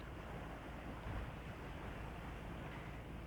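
A sailboat under way off the west coast of Scotland near Luing, heading for Oban, sends a steady broadband rush of water and wind along its hull. The whooshing stays level and continuous, with no talk.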